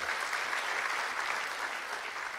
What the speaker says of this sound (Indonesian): Yuk, beri tepuk tangan